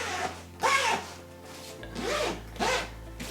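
A bag's non-YKK zipper being pulled open and closed in a few smooth, rasping strokes, close by, with short pauses between each pull.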